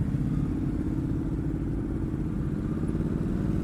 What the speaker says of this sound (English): So far the sound of the engine is very nice.